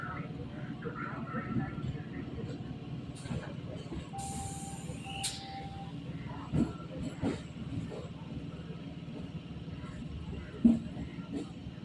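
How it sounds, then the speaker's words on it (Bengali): A local train on the Baruipur–Lakshmikantapur line, heard from inside the carriage, rumbles steadily with low wheel-and-track noise, occasional clanks and a brief squeal, under a narrator's voice. "আমাদের ট্রেন এখন ধীরে ধীরে বাঁদিকে ঢুকে যাচ্ছে নামখানা বা লক্ষ্মীকান্তপুরের দিকে"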